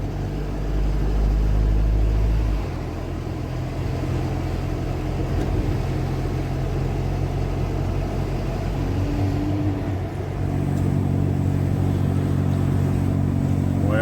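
Car driving along a road beside a dam lake, a steady low engine rumble and road noise from inside the vehicle, with a slight shift in engine tone partway through.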